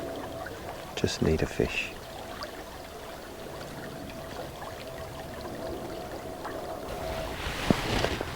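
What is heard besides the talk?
flowing river water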